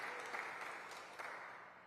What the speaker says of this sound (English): Let's begin with a round of applause for our musicians who just welcomed us with the befitting piece